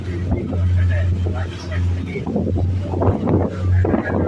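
Boat moving through blue sea water off Port Blair in the Andamans, a loud low engine drone with wind buffeting the microphone and water rushing past, with people talking over it.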